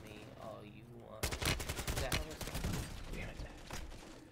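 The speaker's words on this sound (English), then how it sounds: "How did he shoot me? He shot me through the wall." Video game gunfire erupts in rapid bursts of sharp shots after a quiet moment, dense automatic fire continuing for several seconds at close range, with faint voices before it starts.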